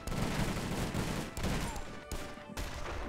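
Rapid bursts of gunfire crackle through a bank heist shootout in GTA V. Dense volleys come with short gaps between them.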